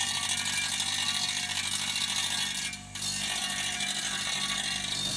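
A ratcheting mechanism clicks rapidly and steadily as a wheel is automatically screwed into position on a balancing rig, a dense mechanical chatter with one brief drop, no talk.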